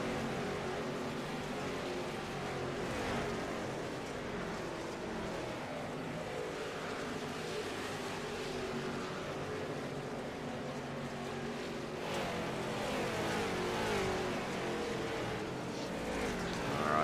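Late model race car engines in an iRacing simulation at Rosberg, a steady blended roar from several cars that holds at a constant level for the whole stretch, with no voices over it.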